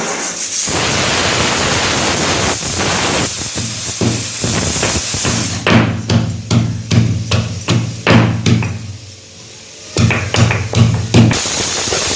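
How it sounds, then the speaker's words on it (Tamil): Ginger and garlic pounded in a stone mortar, a rapid series of heavy, close thuds that comes in bursts over a steady background hiss, with a short pause before the strikes resume, no talking. "இப்போது ஒரு சின்ன துண்டு இஞ்சி போட்டுக்கலாம் இடிகளில் அதுக்கப்புறம் வந்து பூண்டு ஒரு ஒரு ஆறு பண்ணு பூண்டு இதையும் போட்டு இடிச்சுக்கலாம்"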